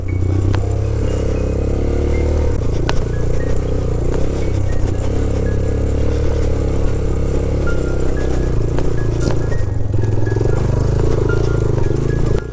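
Motorcycle engine on the Rumli off-road track in the Margalla hills, running steadily and close throughout with a constant loud drone and occasional clatter and rev swells, no clear talking.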